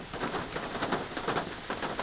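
Steady rain falls in a dense, even hiss over a rural property being cleared of brush, with soft patters and drips pulsing through the wash and no voices.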